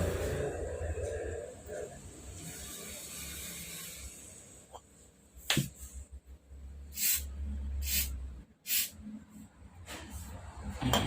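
A Canon iR6000 photocopier bearing gets several short, sharp bursts of spray lubricant, hissing close by between quieter handling noises and soft rustling.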